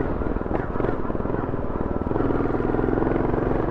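A Royal Enfield Goan 350 motorcycle, a classic custom bobber, runs with a steady, loud, low thumping exhaust beat that pulses evenly throughout.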